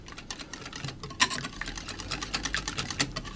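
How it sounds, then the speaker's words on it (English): A whisk beats a thickening mixture in a bowl, the batter heated in short microwave bursts until it clumps; quick, steady, faint rhythmic clicking and scraping runs throughout. "So I'm going to whisk it"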